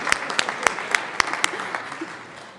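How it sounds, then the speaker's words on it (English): Scattered applause with sharp individual claps rises from members in a state legislative chamber, a thin, uneven patter that tapers off after a couple of seconds. "Let us applaud you."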